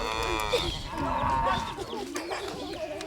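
Cattle low with drawn-out moos at milking time in the Namib Desert, fairly faint and at a distance, against a quiet outdoor background.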